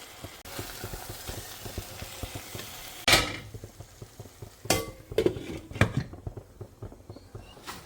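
Brinjal sizzling and frying in a pan, with a steady hiss and several sharp stirring scrapes and clatters near the end.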